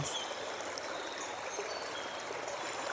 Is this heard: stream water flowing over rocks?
yes